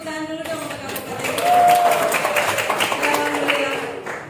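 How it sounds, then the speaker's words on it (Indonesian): An audience claps for the regency at a village technology competition event, a sustained crowd of hands that swells in the middle and stays moderately loud, with a brief tonal sound at the start. "Tepuk tangan dulu dong untuk Kabupaten."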